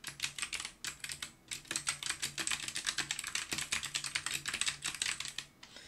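Rapid, steady typing on a computer keyboard while a chart title is entered in an Excel spreadsheet, with close, crisp key clicks in uneven bursts and no voice over them.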